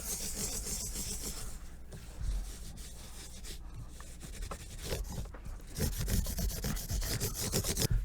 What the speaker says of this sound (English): So I've gone ahead and polished all these frets.